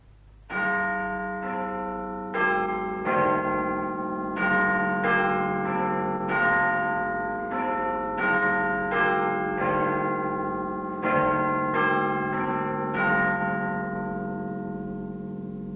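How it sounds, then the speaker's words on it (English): The chimes of Big Ben, broadcast on the BBC Home Service, ring out as a loud sequence of resonant bell strikes in a steady rhythm, each note decaying into the next, with no talk. "in just a few seconds, the chimes of Big Ben and the 10 o'clock news."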